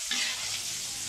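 Stuffed milkfish relleno frying in plenty of oil gives a steady, dense sizzle that holds evenly for about a second, with a brief louder crackle at the start and no voices.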